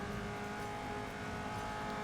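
The engine of a 1965 race car at the Trenton 300 in Indianapolis 500 Evolution drones steadily and loud as it goes into fourth gear, with no clear break in pitch over the short stretch.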